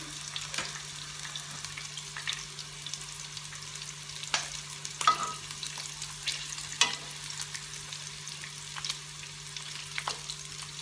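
Köfte meatballs frying in a pan, a steady close sizzle with soft crackles and a few small spatters and stirring knocks, no voices.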